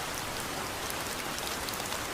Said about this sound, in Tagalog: hindi naman masyadong lumakas yung ulan